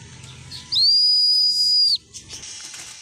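One long, steady, high-pitched human whistle, close and loud and lasting over a second, calls a racing pigeon home after a derby race, with quiet background sound before and after.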